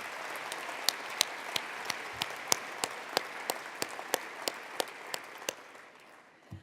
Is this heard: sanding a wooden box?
no